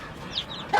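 A hen in a backyard flock with many roosters gives a couple of short clucks over a quiet, slightly noisy background, with a louder, brighter call near the end.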